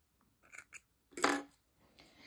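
Scissors snip through knitting yarn from a circular knitting project, with a couple of light metallic clicks followed by one sharper, louder snip nearby, then quiet handling.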